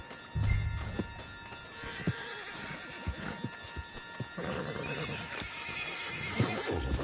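A horse whinnies loudly near the start, followed by scattered hoof thuds and rustling movement over a steady background hum.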